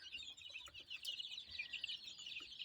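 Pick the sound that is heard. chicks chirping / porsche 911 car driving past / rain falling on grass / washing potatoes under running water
chicks chirping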